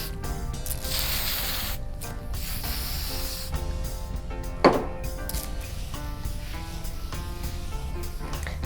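Detangler spray is misted onto braided human hair, soft hissing bursts over a steady background of rubbing and handling noise close by.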